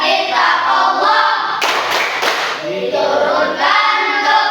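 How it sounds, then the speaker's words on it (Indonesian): A group of children claps along to an Islamic Al-Qur'an clap chant in a classroom, with sung and chanted voices over the claps and a dense burst of clapping midway. "Tepuk Al-Qur'an."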